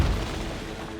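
A ship's cannon fires in the Assassin's Creed Rogue video game, a single deep, loud boom at the very start that rolls into a dense, sustained rumble over a brief moment.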